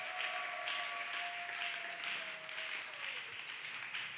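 A wedding congregation at a church nuptial blessing applauds in a steady, dense wash of clapping that holds for the whole stretch, with a faint tone sliding underneath.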